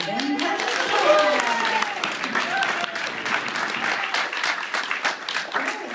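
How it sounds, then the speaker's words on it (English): Game show audience at a 2015 summer camp's Camper's Feud breaks into loud, sustained applause and cheering for a contestant, with voices calling out over the clapping from start to finish. "with a show of applause, let's hear it for Brandon"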